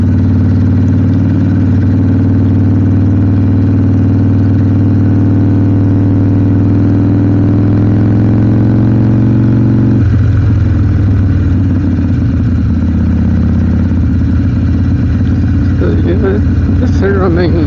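Harley-Davidson Sportster 1200 riding on country back roads, its engine rumbling steadily and loudly up close, then the note drops as the bike eases off, with someone talking throughout.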